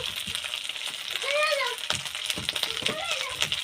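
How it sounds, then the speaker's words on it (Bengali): Catla fish frying in a pan with a little turmeric powder, a close crackling sizzle with stirring scrapes, while a voice speaks intermittently over it. "ভালো করে ভেজে নিয়েছে এবার ধনে গুঁড়ো জিরে গুঁড়ো দিয়ে আরেকটু ভালো করে কষিয়ে নেব"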